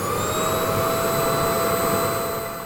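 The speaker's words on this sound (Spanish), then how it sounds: "La aspiradora se abalanzó sobre Benicio Fuenlabrada y, tal como había imaginado, enrolló su tubo flexible alrededor del cuello" A vacuum cleaner sound effect in a Spanish radio drama gives a loud, steady whining roar with a high motor tone, running continuously and slightly fading at the end.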